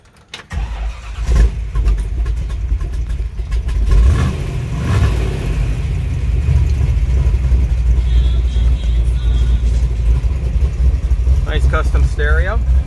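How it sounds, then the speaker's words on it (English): A 1955 Chevrolet 150 post gasser with a 400 Dart small block cranks over, fires and settles into a loud, steady, rumbling idle close by, with brief talk near the start. "can I fire it up?"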